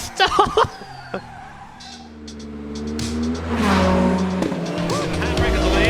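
A normal car fitted with a Formula 1 engine skids under the handbrake, its engine droning loud and steady as tires scrub, with excited voices shouting over it and the noise swelling louder in the second half.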